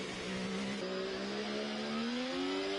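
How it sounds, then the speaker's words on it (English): A race car in a sim racing game revs in rising, whining pitch sweeps across gear changes, a steady moderately loud engine drone with no voices. "You can just hear the engine sounds, not really putting down the traction output that he's looking for."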